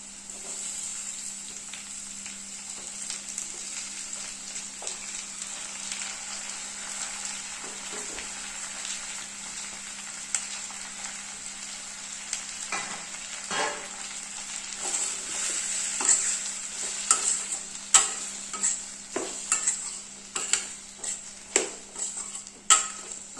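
Chopped tomatoes sauté in a pan for Tamil thakkali thokku, giving a steady close sizzle throughout. Stirring scrapes and clinks grow louder and more frequent toward the end.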